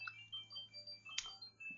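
A phone rings with an incoming call, heard as faint, thin electronic tone bursts repeating at intervals over a quiet background hum, with no talking.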